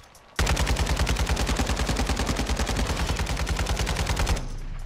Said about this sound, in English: Now the RPK.